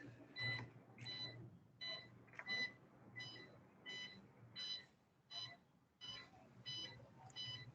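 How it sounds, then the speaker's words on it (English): Repeated electronic beeps from a UPS (uninterruptible power supply) alarm in short bursts, about a dozen at a steady rhythm, fairly quiet, over a low hum and faint background voices. "So guys, I don't know if you can hear this beep sound."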